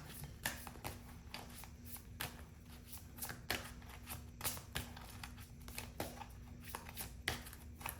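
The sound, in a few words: shuffling cards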